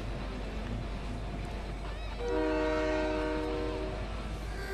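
A train in the video game Fortnite sounds its horn, a sustained multi-tone blast rising over rumbling rail noise and lasting several seconds.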